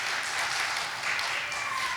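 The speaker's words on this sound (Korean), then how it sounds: "우리 격려하면서 박수 한번 드릴까요?" A church congregation applauding a young preacher after he leads worship, giving a dense, even wash of clapping that stays steady for the whole moment.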